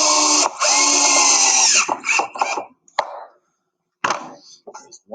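A power drill drilling wood for an Adirondack chair whines loudly for nearly two seconds, then sputters through a few short bursts, followed by clunks and another brief spin.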